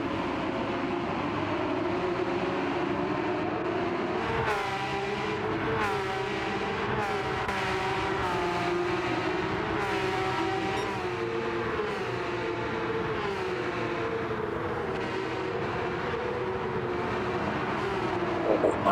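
Porsche Cup race cars in an online racing video game league, a loud continuous engine roar with the pitch rising and falling through gear shifts, brief sharp bursts and tyre squeal over steady drive noise, with no talking.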